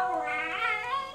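A Lhasa Apso dog howling along to a birthday song, a single drawn-out wavering yowl with rising and falling pitch, close and fairly clear, with no talk over it.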